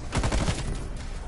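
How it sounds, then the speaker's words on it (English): Rapid gunfire bursts from a powerful shotgun in a video game, several loud close blasts packed into about a second and then trailing off, with no talk over them. "I'm using a shotgun! It takes forever to reload."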